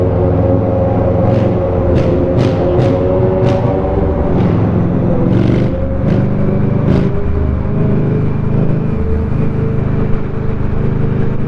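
Steady loud engine rumble from an MV Agusta motorcycle on the road, a continuous droning ride with a few brief high ticks and clicks over the top.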